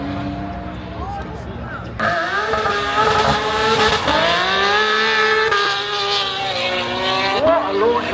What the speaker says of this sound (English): What a launch on the GT4 RS.